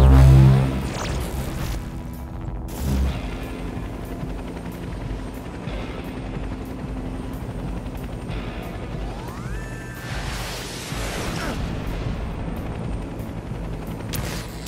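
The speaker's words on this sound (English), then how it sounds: "Sweet! Fireworks," Fireworks bursting in the video game Infamous Second Son, a dense run of loud cracks and booms with crackling sparkle layered over a constant rumble, a sharp opening blast and a further flurry near the end.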